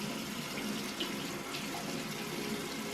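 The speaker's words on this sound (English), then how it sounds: "just rinse it off with some lukewarm water" Lukewarm water runs steadily from a tap as a face is rinsed at a sink, a close, even splashing hiss with no talk.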